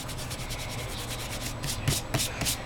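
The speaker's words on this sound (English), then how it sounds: "I'm just going to kind of rub the excess adhesive off a little bit." A finger rubs excess adhesive off a handmade Christmas card in a steady, dry, close-up scrubbing, with a few sharper strokes toward the end.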